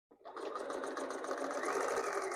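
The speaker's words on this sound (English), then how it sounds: "then you can just start sewing." Sewing machine stitching a quilt, starting abruptly and running as a steady, fast, close mechanical whirr with rhythmic needle chatter for a couple of seconds, with no talking.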